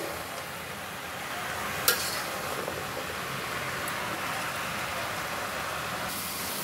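Malabar spinach and a hilsa fish head are stirred gently in a pan, a soft steady sizzle and rustle with one sharp utensil knock near the start.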